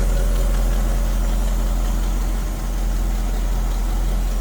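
A 1959 Cadillac Coupe DeVille engine idles steadily, a deep smooth low rumble heard up close with no talking.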